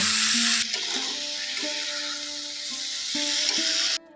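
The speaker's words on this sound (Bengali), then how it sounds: "এখন করমচার সঙ্গে চিনিটা খুব ভালোভাবে মিশিয়ে নেব" Karamcha fruit and sugar are stirred together in a pan, giving a broad steady hiss with light scraping, which cuts off abruptly at the end.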